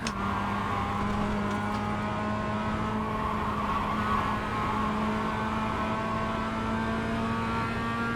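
Race car engines drone steadily on a track mid-race, a continuous sustained engine tone heard from inside or close to the car, loud and even throughout with no talking.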